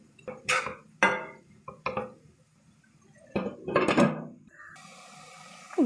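Several sharp clinks and knocks of metal cookware as a pot lid is handled and set down over amaranth greens cooking with salt, ending in a low steady sizzle; no voices.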